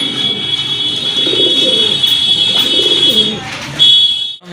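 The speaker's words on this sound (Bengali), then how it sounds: "এই যে দেখেন কবুতরটা, দেখার মতো এক জোড়া কবুতর" Pigeons, a pair kept for sale, coo in soft low rhythmic bursts close by, over a steady high-pitched electronic whine that runs through most of the clip.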